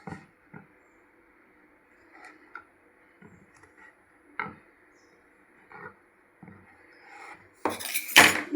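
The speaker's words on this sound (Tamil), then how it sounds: "நான் ஸ்கொயராக கட் பண்ணுறேன்" Knife cutting rolled moong dal dough into squares, sharp scattered taps and clicks on a board at uneven intervals, close and clear, ending in a louder scraping clatter.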